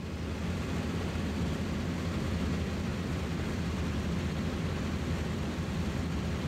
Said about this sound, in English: There are a lot of German planes here, actually.